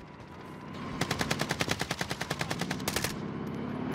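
An automatic rifle, an AK-47 in Call of Duty Warzone, fires a rapid sustained burst of evenly spaced loud shots, then pauses before a short final volley, with ambient battle noise underneath.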